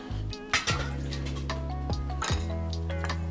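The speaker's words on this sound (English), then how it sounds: "shallots going in." Shallots are tipped into a hot pan for sun-dried tomato pesto pasta, with clinks of metal and utensil knocks over a steady sizzle close by.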